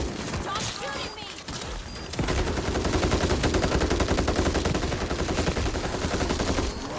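Sustained gunfire from the World War Z: Aftermath video game, Tokyo map horde mode, with rapid automatic shots running continuously and loud after a brief quieter opening, while players talk over it.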